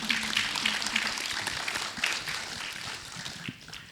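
Enthusiastic applause from a film festival audience after a shorts screening: a dense crowd of clapping hands, loud at first, then thinning and fading toward the end.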